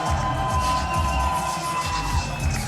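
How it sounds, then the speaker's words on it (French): Crowd at a Drag Attack Wrestling catch show at Le Virage cheers and applauds loudly and steadily, a dense roar of voices with shouts and clapping filling the whole stretch. "Je vous demande de faire un tonnerre d'applaudissements pour la directrice de la Drag Attack Wrestling"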